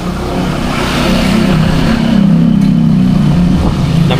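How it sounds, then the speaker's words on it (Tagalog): Motorcycle engine hums steadily while riding, a loud close low drone with constant wind rush that rises slightly midway, no talking over it. "So first time natin mga katawan sumakay ngayon sa motor natin."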